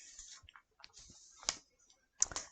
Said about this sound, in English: I have a mechanical pencil